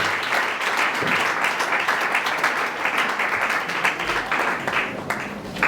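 A church congregation applauding at a thanksgiving service, dense sustained clapping from many hands with a few voices mixed in, loud and close throughout.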